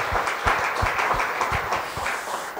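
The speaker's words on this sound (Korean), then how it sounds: "교육일부 수고한분들 위해서 박수 한번 해주시겠습니다" A church congregation applauds during a service in a brief, fairly even round of clapping with soft, repeated beats. The sound is moderately loud and no one speaks over it.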